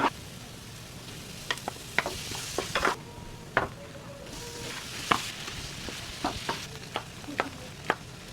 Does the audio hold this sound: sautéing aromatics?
yes